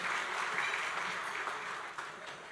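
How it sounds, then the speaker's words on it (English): Guests at a gala dinner applaud for a speaker, a fairly faint, steady patter of clapping from across the room. "Huge applause for Caroline"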